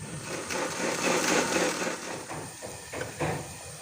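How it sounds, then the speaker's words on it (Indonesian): Shallots and garlic are ground into a paste for pork bone soup. A close, continuous rough grinding noise rises and falls, with a few sharper knocks near the end. "saya mau haluskan bawang merah dan bawang putihnya"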